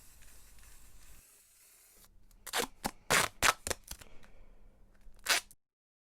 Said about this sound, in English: we're going to do is spray this up with some spray glue